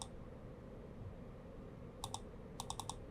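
A few quiet key clicks, first a pair and then a quick run of four, tapped on a computer keyboard over faint room hiss while using Adobe After Effects.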